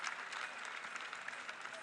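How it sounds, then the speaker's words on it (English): A baseball crowd at an Alabama Crimson Tide versus Oklahoma Sooners college game applauds pitcher Cameron Johnson, a steady dense wash of clapping filling the whole moment without a break. "The applause have already started for an excellent performance today for Cameron Johnson."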